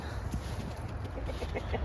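Backyard farm chickens let out of their pen make soft, scattered clucks close by over steady outdoor background noise, with no talking.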